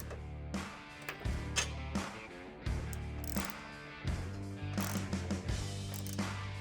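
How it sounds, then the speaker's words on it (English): Matco flex-head ratchet turns recessed cross member bolts on a car, a series of close mechanical clicks in short cranking bursts over a steady background hum, with no talk. "The adjustable handle makes it easier to crank down recessed bolts at an awkward angle, like the ones on this cross member."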